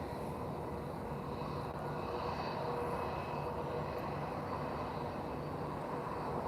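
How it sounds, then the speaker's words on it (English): Airliner landing at Lisbon Airport on a sunny afternoon, a steady broad jet roar heard from a distance, holding at an even level throughout with no voices. "Now we have a landing."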